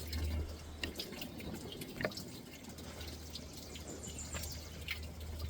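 Fluid squirts and drips faintly from the leaking cylinder head of a running Buick 350 V8. Soft wet spatters sit over a low, steady engine hum.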